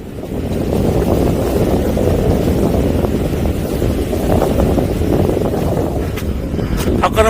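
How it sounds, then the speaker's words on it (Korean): Strong, gusty wind roars and buffets the microphone while backpacking high on a mountain ridge with views of Jirisan, a steady loud rush with a few faint clicks near the end. "와, 바람."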